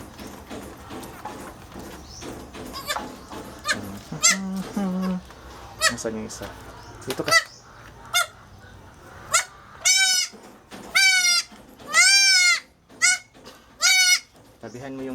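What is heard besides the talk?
noisy goats bleating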